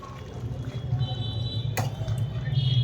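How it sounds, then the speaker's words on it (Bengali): Water from the marinade bowl pours into chicken cooking in a pot for coriander chicken, a soft liquid trickle over a low steady simmering bubble, close and quiet, with one brief sharp clink. "এইবারে আমি এই মশলার যেটাতে ম্যারিনেট করেছিলাম সেই বাটিতে সামান্য একটু জল দিয়ে এর মধ্যে দিয়ে দিলাম"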